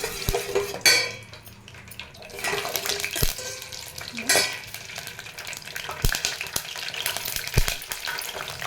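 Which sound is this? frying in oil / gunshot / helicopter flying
frying in oil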